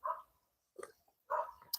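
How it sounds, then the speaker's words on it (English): A pet dog barks three times at home, short sharp woofs spaced apart with gaps of quiet between them, fairly close and moderately loud. "My dog is barking."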